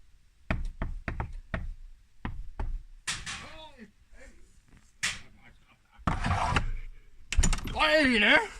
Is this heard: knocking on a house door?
yes